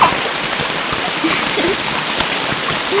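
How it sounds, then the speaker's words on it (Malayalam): Light, thread-fine rain falls outside, a steady close patter and wash running the whole time under faint indistinct sounds. "ഈ നൂല് പോലെ മഴ മുഴുവൻ എവിടെ നിന്നാക്കാ പറഞ്ഞ?"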